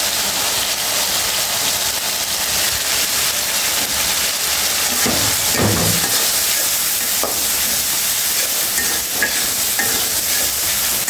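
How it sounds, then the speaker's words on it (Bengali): Prawns fry in a hot pan with a loud, constant sizzle, while a utensil stirs and scrapes them partway through, all close up with no voices. "এবার চিংড়ি মাছটা দিয়ে দিলাম।"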